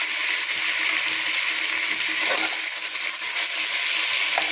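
Vegetables sauté in a pan for Tamil sambar rice, seasoned with chili powder and salt, giving a steady close hiss and sizzle with faint stirring scrapes throughout and no talk.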